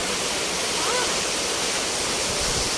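Water from a park fountain in Abu Dhabi falls in a steady, loud, continuous rush that fills the whole stretch without letting up.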